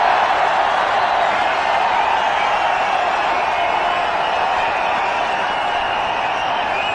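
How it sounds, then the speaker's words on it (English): Cricket stadium crowd in a India versus Australia match roaring after a boundary, a loud, continuous wash of cheering voices holding at an even level throughout, with no single voice standing out. "Crowd loves it."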